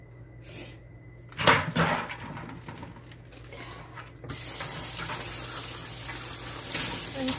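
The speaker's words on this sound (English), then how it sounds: "Rinse this out and throw it in the trash" Running tap water splashes steadily over raw beef being rinsed in a kitchen sink, with a brief louder gush near the start before settling into a continuous close hiss.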